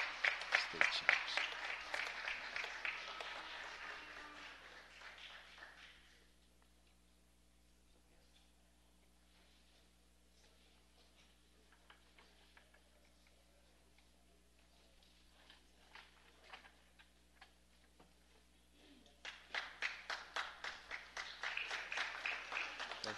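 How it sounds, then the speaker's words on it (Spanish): Applause at a city council meeting honoring state champions: a burst of clapping from the audience fades out, a stretch of near quiet follows, then a second round of clapping swells back up. "Hay que darles otro aplauso."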